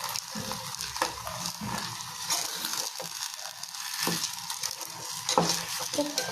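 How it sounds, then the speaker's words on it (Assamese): Halwa sweetened with a little jaggery being stirred in a frying pan, a steady scraping and soft sizzling that runs continuously at close range with no one talking. "খুব লৰাই থাকিব লাগে আচলতে হালোৱা বনালে।"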